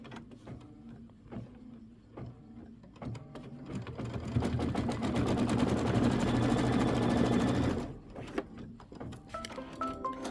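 An embroidery sewing machine stitches the trim line on a quilted Flying Geese block, its needle chattering rapidly in a loud sustained run of about four seconds, framed by quieter starts and stops.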